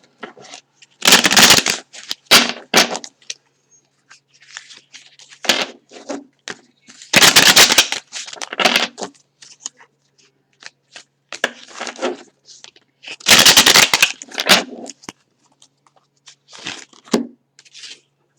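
Buddha oracle cards being shuffled to pull a single card, with three loud, close riffling bursts separated by softer shuffles, taps and handling noises.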